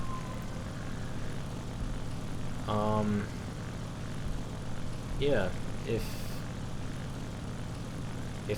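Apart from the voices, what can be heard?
La-9 propeller fighter plane engine in video game War Thunder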